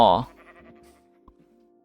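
A sheep in the video game Minecraft gives one loud, short bleat at the start, followed by faint low game sounds and a small click.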